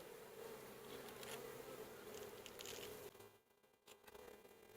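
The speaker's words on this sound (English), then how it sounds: "I've got these bees worked up pretty good. They're really agitated." Agitated honeybees at an open hive make a dense, continuous buzzing drone close by, with several individual bees passing near and a brief dip in the swarm noise late on.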